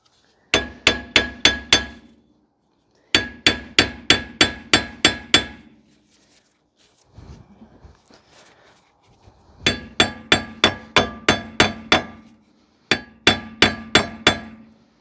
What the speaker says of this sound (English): grab yourself a hammer and pray, and hopefully it will come out with only a few whacks